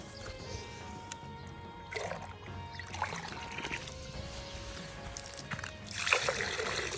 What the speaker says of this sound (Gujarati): પક્ષી માટે છે ને એનું પરબ ભરી નાખું પાણીની.